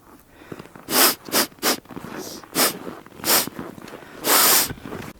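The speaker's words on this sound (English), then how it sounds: "This is a very quick inhalation through the nose" A person takes a series of quick, sharp sniffs through the nose, about seven short breathy bursts in irregular rhythm, close and fairly loud.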